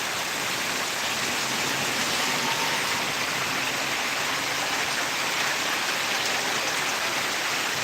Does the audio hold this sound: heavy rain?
yes